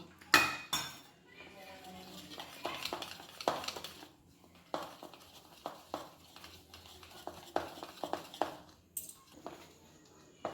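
Pumpkin fritter batter is being mixed in a bowl, with irregular clinks and scrapes of a utensil against the dish, fairly quiet and close, with no voices.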